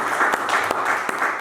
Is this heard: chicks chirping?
no